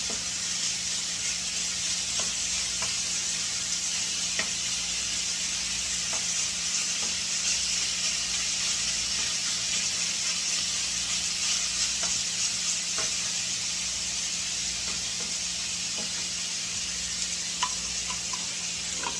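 Chicken pieces frying in a pan, the first of two batches, giving a steady, even sizzle with light crackles and pops throughout, close and continuous, with no talking.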